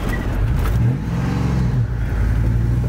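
A truck engine runs while the truck is being driven, a close, loud mid-pitched drone that rises and falls as it revs through a shift, steady throughout the short stretch.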